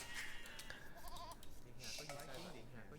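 Sheep bleating in the video game Age of Empires II, short wavering bleats a few times under continuous commentary from a caster.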